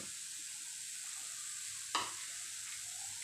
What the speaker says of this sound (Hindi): चम्मच चला देंगे। बंद गोभी डाल देंगे